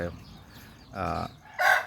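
A young Thai fighting rooster crows and clucks in short bursts, with a mid-clip call and a louder, higher crow near the end, close to the microphone with no talking.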